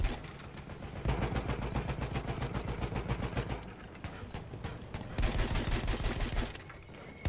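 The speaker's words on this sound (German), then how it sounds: "Das bin ich hier, der gerade schießt." Sustained rapid gunfire in Battlefield 1, bursts of automatic shots overlapping with explosions, loud and continuous with a brief lull midway.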